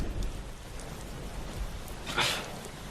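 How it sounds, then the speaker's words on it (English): Steady rain falling outdoors in cold weather, a broad even hiss throughout with a brief brighter splash of drops near the end, no voices. "That would be rain."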